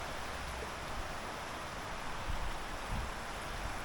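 Steady outdoor rain falling after a night of on-and-off showers, a dense, even hiss with no one speaking and a few slightly heavier swells of patter.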